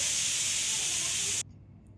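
A pressure cooker whistle sounds while boiling chickpeas with whole spices, salt and water, a loud steady steam hiss that cuts off abruptly partway through, leaving near silence.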